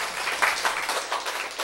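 Audience applause from a lecture crowd at a spiritual talk, a dense wash of many hands clapping steadily for under two seconds at a fairly close, even level.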